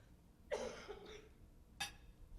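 One close cough from a person at a chamber of commerce legislative preview, a short burst followed by a second brief throat sound, in a quiet room.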